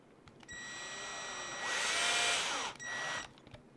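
A power drill or driver runs a screw into the frame of an SCX10 II RC crawler, a steady whine rising to a louder grinding burst, cutting briefly, then resuming before stopping, close and alone.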